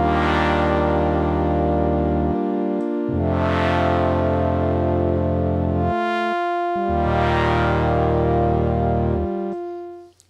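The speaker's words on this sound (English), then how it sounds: "what you are hearing is actual true analog filtered samples from the original SK50D instrument" Dry, unprocessed samples of an analog-filtered SK50D synthesizer from a Kontakt library play sustained, harmonically rich chords that change every few seconds, loud and steady with a slow-swelling bright filter sweep on each chord, alone without any talk.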